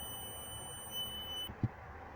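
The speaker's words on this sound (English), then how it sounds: "annoying beeping sound." A cheap $8 multimeter testing fuses on a 1998 Toyota Camry gives a continuity beep: one faint, steady high-pitched tone that holds for about a second and a half, then cuts off and is followed by a soft click.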